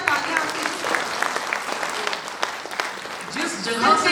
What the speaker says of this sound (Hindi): एक बार हमारे सुपरस्टार के लिए जोरदार तालियां आपके।